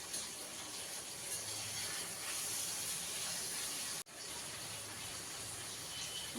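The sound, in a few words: frying fish in a pan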